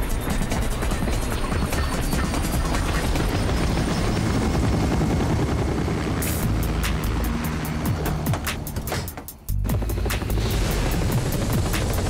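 A loud, steady helicopter rotor thrum with broadband wash fills the scene, briefly cutting out near the end before resuming.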